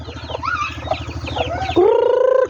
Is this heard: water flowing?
no